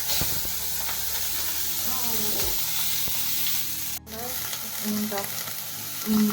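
Seeds pop and crackle in sizzling hot oil, a steady frying hiss with scattered sharp pops and a few stirring clinks.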